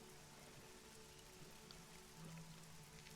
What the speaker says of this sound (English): You can hear the rain fall outside,